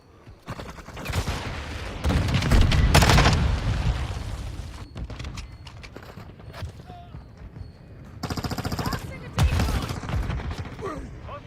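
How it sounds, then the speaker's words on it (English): Cluster mine blasts in Call of Duty Modern Warfare II: dense rattling bursts of explosions in two loud waves, a sustained barrage early on and another later, with scattered gunfire between them. "hostile cluster mine deployed."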